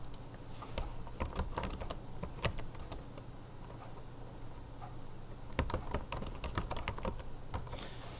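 Keys clatter on a computer keyboard in uneven bursts of typing, with short pauses between runs of taps, close and fairly quiet with no speech.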